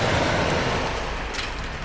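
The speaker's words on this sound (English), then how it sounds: "we'll be enjoying the sea view and the sea breeze and the sea noise" Sea waves wash against the coast at Stonehaven, Scotland, a broad steady roar of surf mixed with wind buffeting the microphone, with no voices.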